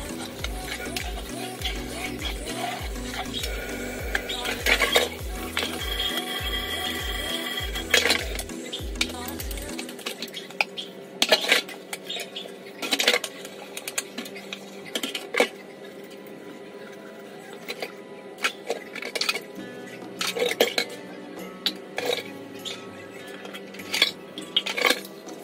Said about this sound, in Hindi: बर्तन धो रहे थे